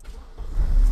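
A carbureted 40-year-old Mercedes Baby Benz, swapped to a 5-speed manual, fires up: a low engine rumble builds and grows louder over about a second, with no voices.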